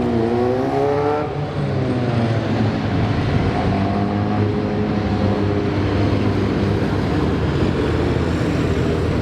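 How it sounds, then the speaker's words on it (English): A continuous loud roar of many motorbike engines passing close by, steady and overlapping, with rising and falling pitches as the bikes stream past. "a whole load of motorbikes come streaming around here"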